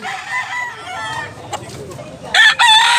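A rooster, a prized fighting cock about a year old, crows near the microphone in North Cebu, Consolacion, with a long drawn call that breaks off and then a loud final burst near the end.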